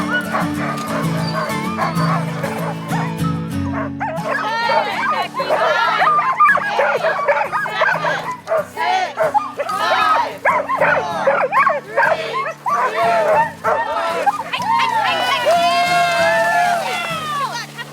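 Many sled dogs bark, yip and whine excitedly together in a continuous loud chorus at a dog sled race in northwest Montana, with high-pitched howling yelps rising toward the end.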